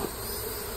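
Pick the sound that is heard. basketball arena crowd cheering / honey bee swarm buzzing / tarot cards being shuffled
honey bee swarm buzzing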